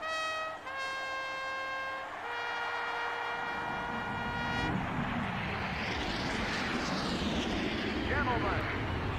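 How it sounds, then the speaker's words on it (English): Forty-three Winston Cup stock cars in the NASCAR Thunder 2004 racing game fire up together. Sustained tonal sounds come first, then a dense engine roar swells and keeps building, loud and continuous. "43 Winston Cup engines come to life, and Alexandre, ain't that beautiful?"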